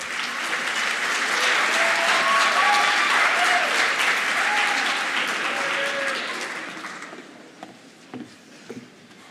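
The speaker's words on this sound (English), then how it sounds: "Let's give her a round of applause and welcome tonight's MC, Maggie Hoppel." An audience at a communications studies speech competition applauds warmly for the incoming MC, a full, loud burst of clapping that holds steady for several seconds, then thins out into a few scattered final claps.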